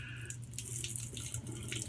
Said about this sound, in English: I'm going to wash the bristles out on this brush